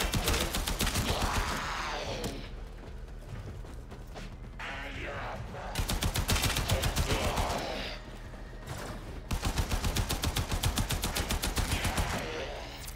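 Rapid automatic fire from a primary weapon in Warframe rattles in long sustained bursts, loud and close, separated by brief gaps with mechanical clicks, while a voice speaks partly over it.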